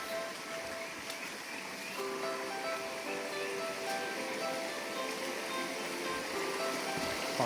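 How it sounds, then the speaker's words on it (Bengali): Water from a stream on the Napittachora waterfall trail in Sitakunda rushes in a steady, moderately distant wash with faint rustling and no clear voices. "পানির একটা প্রচুর শব্দ।"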